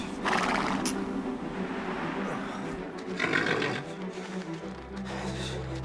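A horse in the Valiant Hearts: The Great War video game whinnies loudly and repeatedly over a busy background of hoofbeats and ambient noise.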